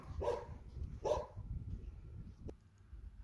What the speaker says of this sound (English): The dogs aren't happy that they're not out here with me.